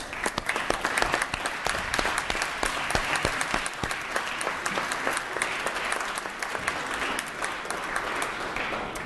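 A legislative assembly floor fills with sustained applause from many members, a dense, even clatter of hands clapping that continues throughout.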